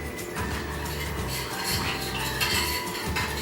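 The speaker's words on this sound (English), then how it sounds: "I'm just using a standard spoon to mix it up" A standard metal spoon stirs muffin batter in a bowl, scraping and clinking steadily against the sides in a continuous, close, busy rhythm with no talk.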